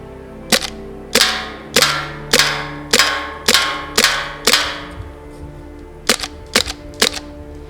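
A Well Pro PP-19 airsoft gun fires with a magazine chilled to about minus 10 Celsius, eight sharp evenly spaced cracks followed by a pause and a quicker burst of three, close and loud.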